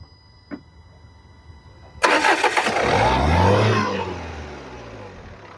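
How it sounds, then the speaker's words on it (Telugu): A 2016 Renault Duster RXL engine cranks and catches at once, roaring up loudly before settling into a steady idle, after a small click beforehand. "ఒకసారి బండి కూడా స్టార్ట్ చేసి చూసుకుందాము ఎలా ఉందనేది ఇంజన్"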